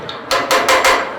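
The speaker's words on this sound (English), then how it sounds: "I'm going to hammer this material down like this." A blacksmith hammers hot metal while forging a skull shape, four loud ringing blows in a quick, even rhythm, close up.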